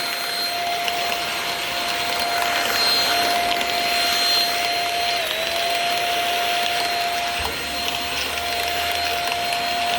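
Shark cordless stick vacuum cleaner running continuously, a loud steady whine with a high motor tone that dips briefly as it moves over the floor.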